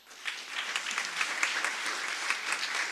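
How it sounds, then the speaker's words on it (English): A school board meeting audience claps in sustained, even applause that swells in quickly and holds steady for several seconds, with no voices over it. "let's give a round of applause to the African American Museum"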